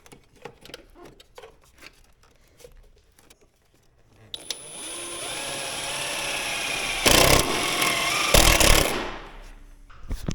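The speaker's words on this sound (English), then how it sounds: "Let me get this screwed down in here. Some little stainless steel Phillips head self-tapping screws" Stainless steel Phillips head self-tapping screws are driven into a 1999 Jeep Cherokee with a power driver. Faint handling noises give way to a sustained, close whirring drive with two louder bursts near the end.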